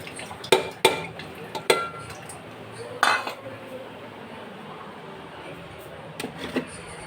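Two large chopped onions tipped into a cooking pan, a few sharp clinks of utensil against metal in a quiet kitchen, followed by a faint sizzle.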